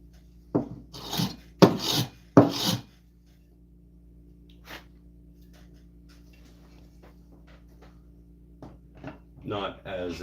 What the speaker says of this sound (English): It does scraping.